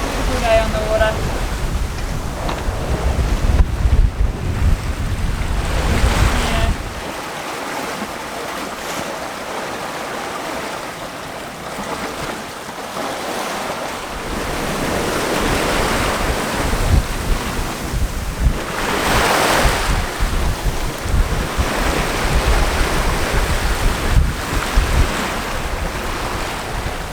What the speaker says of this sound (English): Got just enough wind, the sea's not too rough, got the wind on the beam.